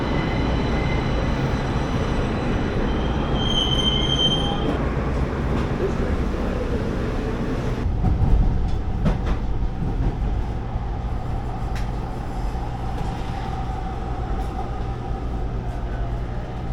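LA Metro A Line train near Pico Station, a continuous rumbling ride with high-pitched wheel squeals in the first seconds, then a louder clunk and lower steady rumble with faint scattered squeaks.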